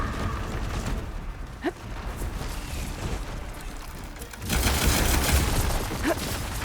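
A shot fired at a machine in Horizon Forbidden West, with a sharp report near the middle followed by a louder burst of sound near the end over a steady game background.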